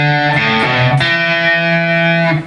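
A short electric guitar lick with a gritty, distorted tone, a few quick hammered-on notes sliding into one another, then a sustained ringing note, played alone.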